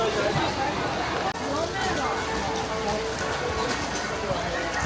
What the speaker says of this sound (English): The rain has been falling for an hour. Now it has become very small.